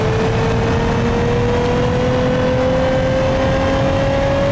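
Steady, loud V6 engine drone from an LS3500 wagon with a 3.5 liter V6 in BeamNG.drive, its pitch climbing slowly and evenly throughout as the engine revs up under continuous acceleration, with no talk.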